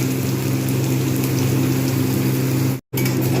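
Bitter gourd fries in fish oil with a steady, dense sizzle over a low hum, continuous and close, broken by a brief silent gap near the end.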